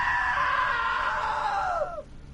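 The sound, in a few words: scream in video game What Remains of Edith Finch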